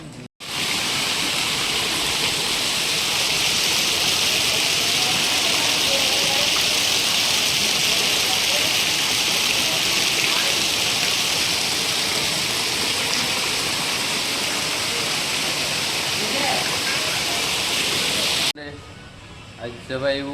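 Heavy rain pours down in a steady, loud, hissing roar for about eighteen seconds, then cuts off abruptly into a few quieter, scattered sounds.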